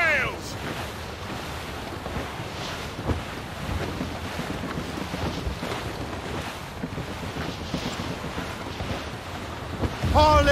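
Sailing ship under full sail at sea in Assassin's Creed Rogue, a steady rush of wind and waves with a brief louder surge at the end, with voices calling out above it.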